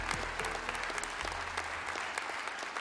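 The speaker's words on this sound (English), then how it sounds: "Let's keep clapping and stand to our feet." A church congregation applauds steadily during a Sunday service, dense clapping with low organ or bass tones sustained underneath, loud and continuous throughout.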